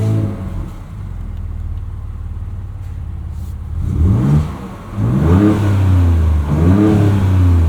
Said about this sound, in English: A little bit of a different exhaust tone too.